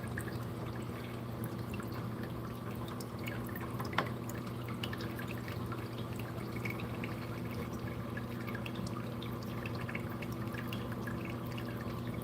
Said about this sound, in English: I plan to pretty much drip acclimate them until this water gets to the very top here